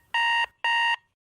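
An alarm clock rings with two loud, identical electronic beeps separated by a short gap, followed by quiet.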